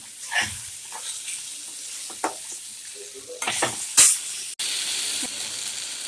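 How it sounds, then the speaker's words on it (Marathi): Bitter gourd sabzi with grated coconut and coriander gets stirred in a pan, giving soft scrapes and light clatter over a faint sizzle, then a sudden steady hiss near the end. "खोबरं कोथिंबीर घातलं, हलवून घेते."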